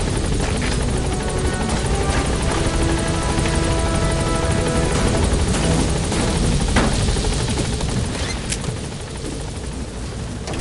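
A military helicopter hovering near a landing zone in the Metal Gear Solid V video game, its rotor and engine roaring loud and steady throughout with a dense churning wash and no voices.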